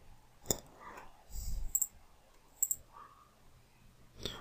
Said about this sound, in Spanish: tenemos que darle clic en el contorno